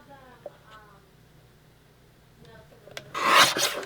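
Paper for a scrapbook cut with a single rasping snip near the end, loud and close, after quiet handling noises and a bit of speech.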